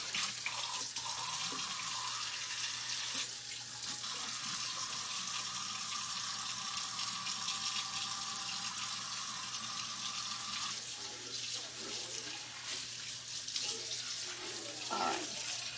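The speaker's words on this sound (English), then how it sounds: "let's wash out this bowl for these sweet little animals of mine" Tap water runs steadily into a kitchen sink while a pet bowl is rinsed out, a continuous close splashing flow with small clinks and shifts as the bowl moves under the stream.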